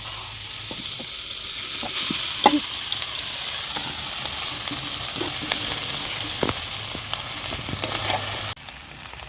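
A steady, loud sizzle of vegetables stir-frying in a pan for fried rice, with scattered scraping clicks of stirring; no voices.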